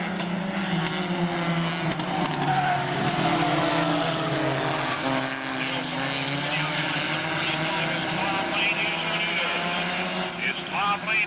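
Race cars at a short-track oval event roar past and rev through their gears, a continuous loud engine drone with shifting pitch. A race commentator talks over it throughout.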